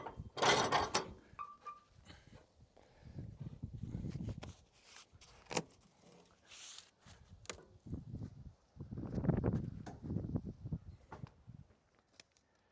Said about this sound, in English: now we're going to tighten up the log here.